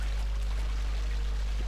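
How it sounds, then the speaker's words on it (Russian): Water runs in Cry of Fear, a steady pouring rush over a low constant hum, with no break across the short stretch. "Вода, вода, знаете, классная для Half-Life."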